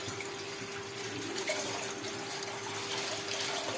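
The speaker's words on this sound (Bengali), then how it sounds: "জল দিয়ে দিলাম সমান মতো।" Water runs steadily into a pot for a potato curry (alur torkari) on a gas stove, a soft continuous pouring and splashing with no talk.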